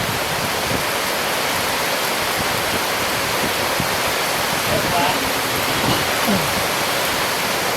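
Steady rain falls on a garden during an evening thunderstorm, a dense, even hiss filling the whole stretch with no let-up and a faint voice buried underneath.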